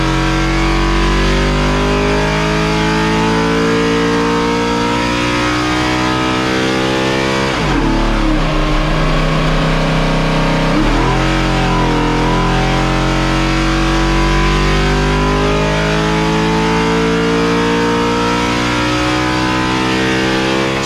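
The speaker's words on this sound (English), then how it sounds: "Now it's back on the dyno, and we're gonna show you how much power it makes now with all the problems fixed." A NASCAR race engine running on a dyno with standard NASCAR fuel and an old carburetor, roaring loud and steady at high revs for about twenty seconds, with a brief dip in pitch midway before climbing back.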